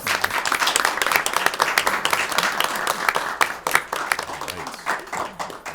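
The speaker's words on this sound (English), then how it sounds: "Another round of applause." A school committee meeting audience gives a sustained round of applause, dense uneven clapping filling the room for several seconds with a faint voice or two underneath.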